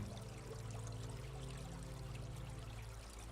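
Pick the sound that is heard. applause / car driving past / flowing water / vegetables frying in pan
flowing water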